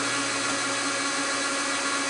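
A drill mill bit spins at speed in a power tool while machining a car cigar ashtray, giving a steady, dense high-pitched whine that holds even and loud from start to finish with no talk.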